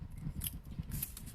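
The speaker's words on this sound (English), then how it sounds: "I'm going to cut it off really slowly with these scissors" Scissors snip slowly through paper while a handmade birthday card is being made, giving a few soft, close cuts against quiet room noise.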